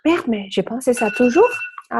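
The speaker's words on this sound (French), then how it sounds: "ça, c'est mon alarme pour faire ce chat." A phone alarm rings with a steady electronic tone through the middle of the moment, partly under someone speaking French in conversation, moderately loud and close.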